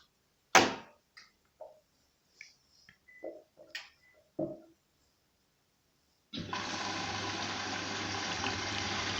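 A washing machine filling with water on a synthetic 60-degree wash, a steady rushing water inflow starting after several soft clicks and knocks, continuing loud and constant to the end.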